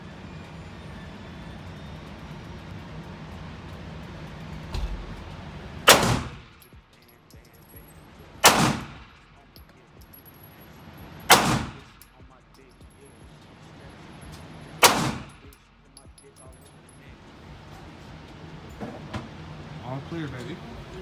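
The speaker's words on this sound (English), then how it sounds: "make sure you get that first shot in the middle" A Zigana Model F pistol fires four loud shots, evenly spaced a few seconds apart, each a sharp crack with a short echo, over faint background noise and quiet talk.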